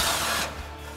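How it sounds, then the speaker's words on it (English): An impact wrench with a 10 mm swivel socket removes a bolt under a Ford F-150 EcoBoost during exhaust work, giving a short, loud burst of whirring and rattling that cuts off abruptly midway through. "So we're going to grab our 10 millimeter swivel socket here on our impact."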